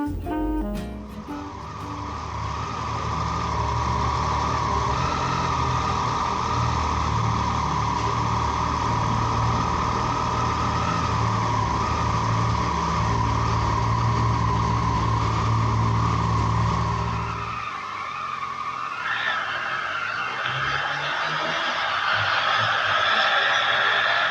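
A Kawasaki Versys motorcycle riding along a road south of the Tatra mountains, heard as a loud, steady engine and wind drone up close, with the tone shifting near the end.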